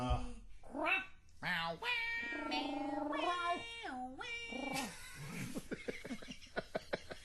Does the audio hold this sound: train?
no